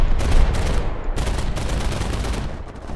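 Rapid, sustained automatic cannon and machine-gun fire from a Do 217 J-1 fighter on a strafing run in War Thunder, dense and loud with brief pauses between bursts.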